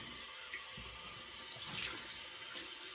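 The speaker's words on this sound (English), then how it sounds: "We're going to do a cold water rinse." Cold water runs from a bathroom tap for a rinse during a wet shave, a soft, steady splashing stream heard close but at low level, swelling slightly midway.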